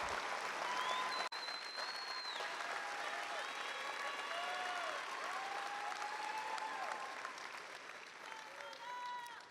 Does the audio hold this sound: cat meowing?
no